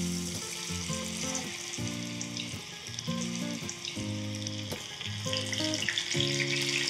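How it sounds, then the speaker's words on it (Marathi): Corn fritters dropped into hot oil over medium-high heat, frying with a constant crackling sizzle. Steady tonal music plays over it and there is no speech. "आणि आता हा तेलात सोडूयात."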